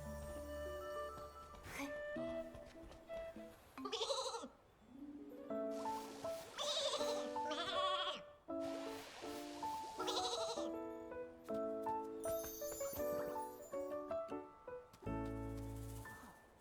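A Flora sheep in Infinity Nikki bleating repeatedly over light game music, several short wavering cries spread through the passage, fairly clear and close with no talking.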